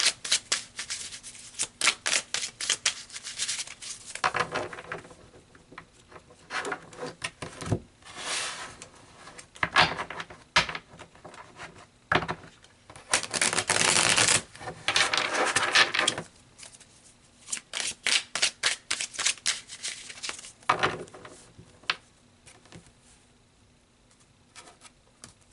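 Tarot cards are shuffled and pulled by hand in a quiet room, giving close, repeated papery riffles and slaps in uneven bursts, with a longer continuous shuffle in the middle and a few soft taps, and no talking.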